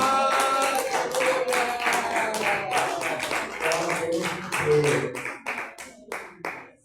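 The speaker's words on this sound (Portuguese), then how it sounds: "Palmas para Deus." A church congregation claps along in a steady, even beat during a worship service, the sharp hand claps close and loud over singing voices before thinning out into a few scattered claps at the end.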